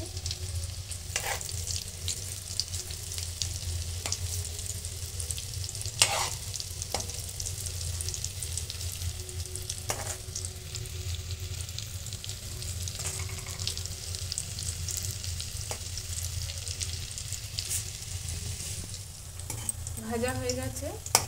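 Biscuit-crumb-coated cauliflower pakora fries in hot oil, a dense, continuous crackling sizzle heard up close with occasional sharper pops and utensil taps, and a brief voice near the end.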